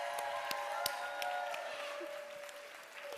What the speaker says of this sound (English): One final applause for Chicago's inaugural Chicago Poet Laureate.